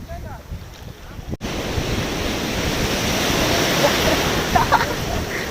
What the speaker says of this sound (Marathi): लाटा मित्रांनो माझ्या एकदम जवळपर्यंत येतात.